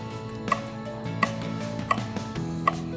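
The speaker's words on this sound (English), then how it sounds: "just cut up some Thai chilies and add it to the dish" A kitchen knife chops Thai chilies on a cutting board in four evenly spaced, crisp strikes over a steady background hum.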